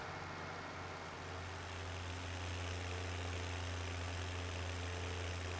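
A tracked logging tractor in Farming Simulator 17 drones on as a steady low engine hum with a dense even rumble for several seconds, near and constant, with no speech over it.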